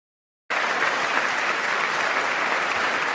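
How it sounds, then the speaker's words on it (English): Loud, thick applause from the State of the Union audience bursts in after half a second of silence and continues unbroken as a steady wash of clapping. "I want to do an edit where I just remove all the clapping."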